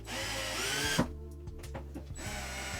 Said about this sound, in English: I'm going to grab a power drill, and on a very low speed, I'm going to put the screws in